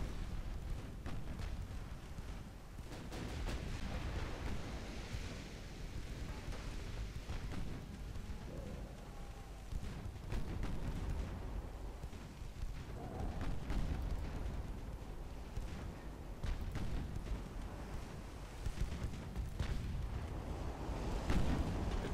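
Naval gunfire in the warship game Ultimate Admiral Dreadnoughts rumbles as a continuous bed of deep booms and muffled blasts, with repeated low thuds rolling through the whole stretch at moderate loudness.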